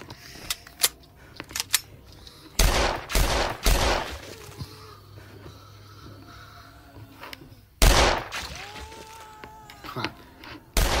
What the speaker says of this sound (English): AK-47. Oh, I love this gun.